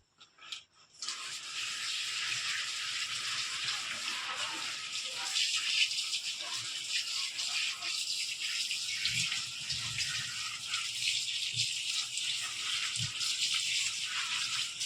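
Steady running water, like a tap flowing over taro leaves being rinsed, with occasional low knocks and splashes near the end.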